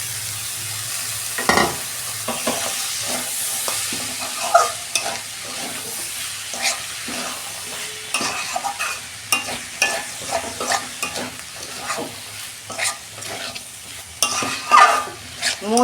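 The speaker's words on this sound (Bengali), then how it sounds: "কষানো হয়ে গেছে, এই যে আমি আলু আর মোচাটা দিয়ে দিচ্ছি" Potato and chopped banana flower stir-fried with spices in a pan, a spatula scraping and clattering in irregular bursts over a steady close sizzle, with no talking.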